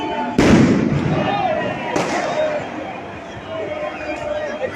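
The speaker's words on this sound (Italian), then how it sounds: "fuochi d'artificio, ancora petardi e la folla che festeggia in Piazza Ienne l'anno nuovo" Fireworks and firecrackers explode in Piazza Yenne, Cagliari, at the New Year 2022 celebration: two sharp close blasts crackle and echo over a murmuring, celebrating crowd.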